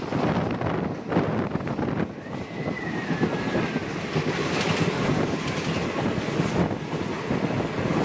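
A passenger train leaves Manubazar station in Tripura, bound for Sabroom. Dense, continuous wheel rumble and rhythmic clatter run throughout, with wind buffeting the microphone.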